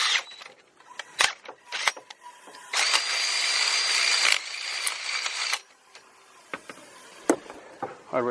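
Power drill boring with a Milwaukee 7/16 titanium drill bit during a solid axle swap on a 2500HD truck, a sharp high whining burst of grinding for a few seconds amid clattering mechanical clicks and clanks close by.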